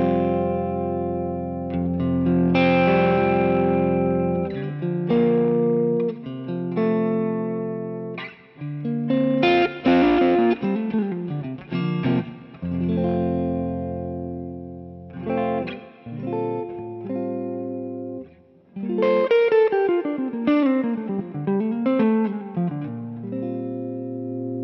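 An electric guitar, a PRS, plays clean, ringing split-coil chords and melodic runs through a Tone X Dumble 1979 amp capture with light effects and reverb, no voices.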